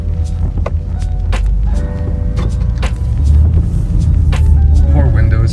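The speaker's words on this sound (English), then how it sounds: "Driving toward the sunset." A car with a broken power window drives along a rural reservation road, making a steady low road rumble that grows heavier partway through, with intermittent rattles and clicks close by.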